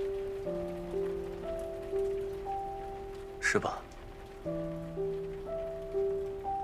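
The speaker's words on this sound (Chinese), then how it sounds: "下雨了。" Steady rain falls in a dramatic scene, a soft, continuous patter under sustained tonal music, with one brief spoken phrase midway.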